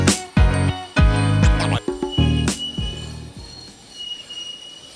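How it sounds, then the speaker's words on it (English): A Liepāja tram on its single 1000 mm gauge line, with loud, close wheel squeal in repeated tonal bursts and screeches, ringing and clinking between them, then easing away. "This is a single tramline in Liepāja."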